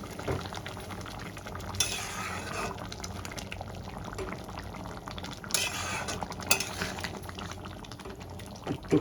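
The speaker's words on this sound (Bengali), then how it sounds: "অমলেটগুলো দিয়ে আমি একটু ফুটিয়ে নেব ভালো করে।" Curry with omelettes and potatoes bubbling in a pan, a soft continuous simmer with occasional utensil scrapes and brief stirring bursts, quiet and close.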